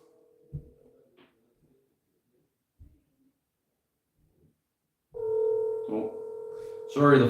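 A phone call cuts out, leaving faint clicks, then steady telephone tones that sound loud and close near the end.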